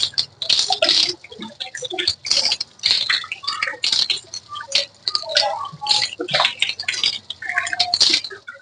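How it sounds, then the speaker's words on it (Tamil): Water splashing and pattering irregularly as a plucked chicken is rinsed lightly by hand, with dense wet clicks and drips close by and no talking. "இப்போ தண்ணியில் அலசணும் லைட்டாக"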